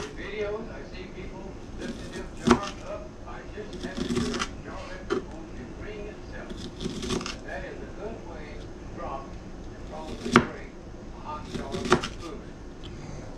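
A knife chops sliced onion on a cutting board for potato salad, giving a few sharp, scattered knocks among softer cutting sounds while someone talks.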